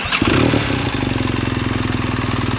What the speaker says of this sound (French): Je vais vous démarrer.